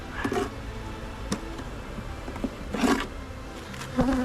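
Honey bees buzzing in a swarm trap box, a steady close hum with a few louder passes of individual bees flying near.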